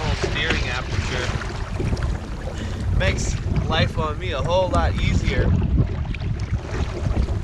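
Constant wind rumbling across the microphone with sloshing, choppy water underneath on the Napa River, while someone talks over it from a Hobie Compass kayak.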